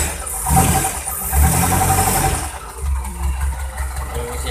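Car engine fitted with a motorcycle CDI ignition, idling with a low, slightly uneven rumble and mild surges, close and steady throughout with no voices.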